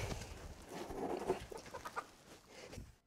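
Hens cluck in a busy, uneven stream of short calls, close by, with a rustling farmyard background.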